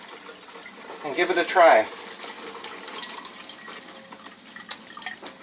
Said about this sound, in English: So now we'll make some Kangen water